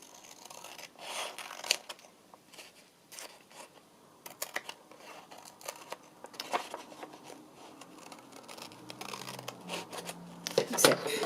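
Scissors snip and paper rustles close up while cut-up book covers are trimmed for a handmade notebook, a series of quiet irregular crinkles and cuts spread across the clip with no talking over them.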